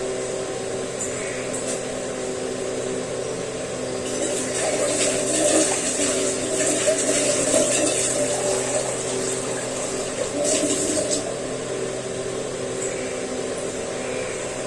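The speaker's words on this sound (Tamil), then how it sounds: "கொஞ்சம் நம்ம தேவையான அளவு கொஞ்சம் தண்ணியும் ஊத்திக்கலாம்." Water, about half a litre, pours steadily into a cooking pot with a rushing, gurgling flow over a constant background hum, swelling louder midway before easing off.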